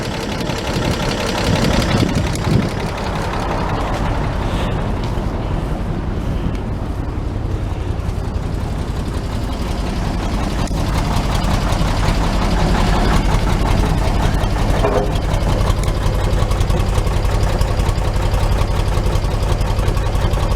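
A 1941 Chevy engine idles steadily through a newly welded exhaust muffler, a low, even rumble heard up close for the whole stretch, with no talking over it.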